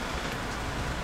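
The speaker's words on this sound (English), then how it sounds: "So if you hear rain, then think of it as a tropical paradise." Rain falls steadily outside as a dense, even hiss of drops on surfaces, continuous and moderately loud, with no talk.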